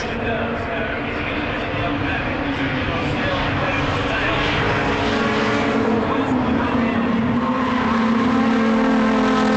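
Touring car engines roar continuously through a 2005 BTCC race at Donington Park, a dense loud wash of racing engines with shifting pitch, under a commentator's speech throughout.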